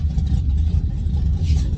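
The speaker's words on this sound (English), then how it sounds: "A little turbo Honda just pulled up on me." A small turbocharged Honda car rolls up at a drag strip, its engine giving a steady low rumble close by, near idle with slight revving, no talk over it.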